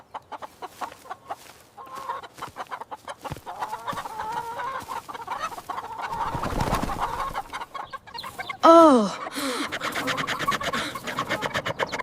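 Chickens on a farm cluck and peck close by in short irregular bursts, with one louder squawk near the end; a voice briefly exclaims.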